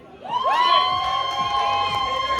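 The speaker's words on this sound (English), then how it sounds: "come on, a big round of applause!" A comedy club audience erupts in cheers and whoops for a stand-up comedian, a loud sustained roar of voices with a high whistle or shout rising above it.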